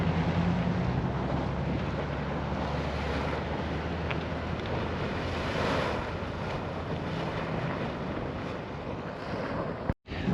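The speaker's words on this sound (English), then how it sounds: "Spouter geyser." Spouter Geyser erupting water in Black Sand Basin, Yellowstone, heard as a steady broadband rushing hiss mixed with wind buffeting the microphone, continuous and fairly loud throughout with no talking.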